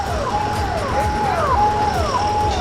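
A fire brigade truck siren wails in repeated rising and falling sweeps at an emergency scene of a hotel fire in Lucknow, loud and continuous over steady rumbling background noise.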